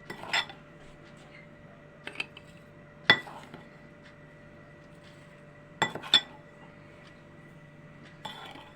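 One-and-a-half-litre glass jars clink as salt goes in heaped for pickling tomatoes and cucumbers. There are several sharp, separate chinks at irregular intervals over a quiet kitchen background.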